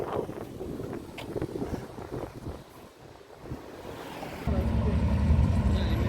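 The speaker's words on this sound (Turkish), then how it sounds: "İşte arkadaşlar bir tekne daha gölden gelip buradan geçiyor." A motorboat engine drones nearby on Küçükçekmece Lake in Istanbul amid gusty wind and lapping water, growing louder and steadier toward the end.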